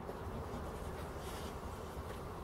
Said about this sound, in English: Now, I think I've got a bee's nest, folks.